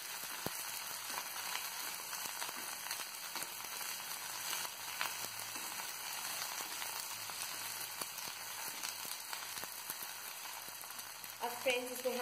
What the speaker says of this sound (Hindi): इसमें हमारी बारीक कटी हुई भिंडी, और अब हम इसे फिर से मिक्स कर देंगे अच्छे से